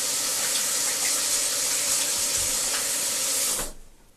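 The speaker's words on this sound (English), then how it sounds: "Now that you're all done, you rinse the soap off." Tap water runs steadily into a sink while soap is rinsed off hands, a loud, close, continuous splashing rush that stops abruptly near the end.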